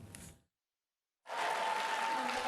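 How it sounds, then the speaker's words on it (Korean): A cinema audience at a sing-along screening breaks into dense, steady applause after a short near-silent gap, the clapping holding loud and even to the end. "객석에 앉은 사람들이 다 같이 손뼉을 치며 노래를 부르고 영화를 감상합니다"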